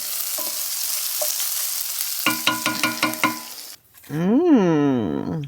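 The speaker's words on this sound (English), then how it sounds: "there is so much garlic in there and it is being cooked in this grilled olive oil sauce" Garlic cooks in a grilled olive oil sauce with a steady, close sizzle and frying hiss for the first couple of seconds, followed by louder tonal, ringing sounds that ride over it.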